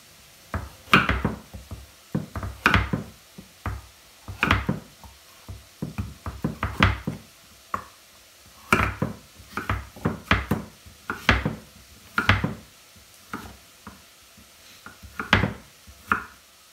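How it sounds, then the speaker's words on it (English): A knife chopping a butternut squash into cubes on a board, irregular bursts of sharp thuds and knocks repeating over many seconds, close and fairly loud with quiet gaps and no talking. "I'm going to cut up this butternut squash."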